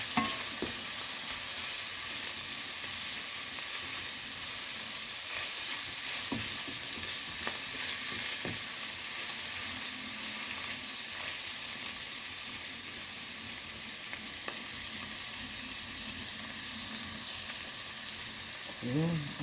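Celery, salmon and shrimp stir-fry in a pan with a loud, continuous hiss of frying throughout, punctuated by occasional scrapes and knocks of stirring, with no talk over it.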